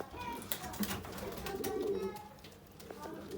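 Pigeon cooing on a balcony, soft repeated coos under steady outdoor background noise and a murmuring voice.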